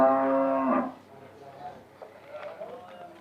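A calf on a farm gives a loud, drawn-out moo lasting under a second, followed by quieter background talk and farmyard noise.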